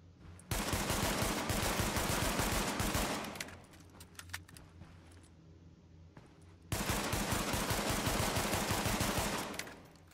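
Rapid gunfire from the high-end Damascus pistol in The Division, in two long sustained bursts of sharp, closely spaced shots separated by a quieter stretch with a few scattered reports, loud and close with no talking.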